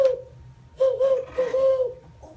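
A man imitates an owl call with his voice, giving a hooting sequence of several cooing notes in a soft, breathy rhythm, close and fairly loud, alone in a quiet room.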